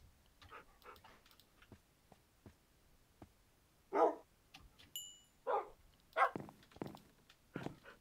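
A dog in a video game barks and yips a few times in short separate bursts, fairly quiet against a soft game background.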